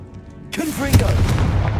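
A Confringo blasting spell detonating in Hogwarts Legacy, set in a tomb: a sudden loud blast breaks a near-silent moment, then rumbling, ringing debris carries on with a voice over it.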